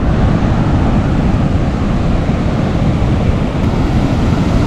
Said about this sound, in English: Seems like the waves have gotten a little bit bigger.